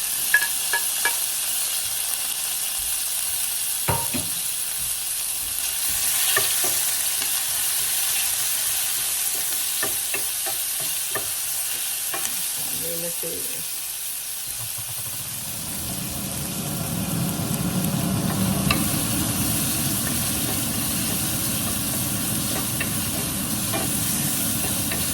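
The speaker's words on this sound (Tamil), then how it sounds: "இதுக்கு பிறகு கொஞ்சம் இது என்ன ஆனியன் போட்டு வதக்குவீங்க." Onions sautéing and being stirred in a frying pan while pasta with meatballs is prepared, a steady close sizzle with hiss and occasional scrapes, the frying growing fuller and louder in the second half, no talking.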